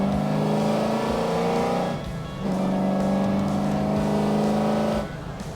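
An LS V8-swapped BMW 330i race car revs hard on a track, engine droning steadily loud and close, with a brief dip around a gear change before pulling strongly again and easing off at the end.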